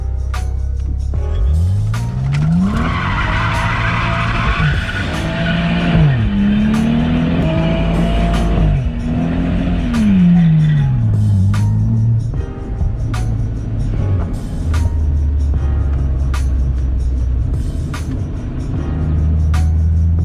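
A BMW 435i driven hard, its engine revving up and down through loud rising and falling pulls with tire squeal layered on top, then settling into a steady drone, close and continuous.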